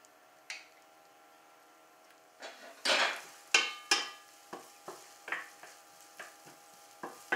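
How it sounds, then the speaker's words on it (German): Onions fry in goose fat in a pan, a soft sizzle broken by a string of sharp scraping and stirring knocks that grow more frequent toward the end, heard up close with no talking. "Aber dieses Fett können wir ja zum Anbraten der Zwiebeln noch verwenden."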